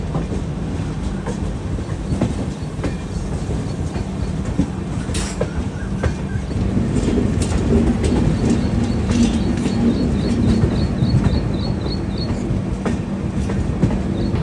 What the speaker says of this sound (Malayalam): ട്രെയിൻ വളരെ പയ്യാണ് പോകുന്നത്